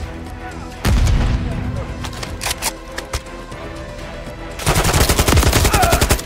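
Heavy gunfire in the video game Call of Duty Modern Warfare 3: a loud booming burst, scattered sharp shots, then a dense rapid automatic volley near the end.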